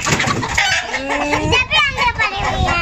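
Aseel chickens cluck and squawk close by, with an Aseel rooster's harsh calls rising over a busy, noisy yard.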